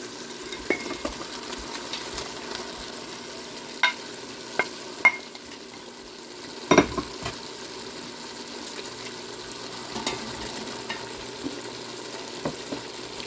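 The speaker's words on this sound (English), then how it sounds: "Give it a stir and continue to sauté for about 5 minutes." Onions and celery with garlic sauté in an Instant Pot, a soft low sizzle under occasional spoon scrapes and knocks against the pot, one louder clunk midway, fairly quiet and close with no speech.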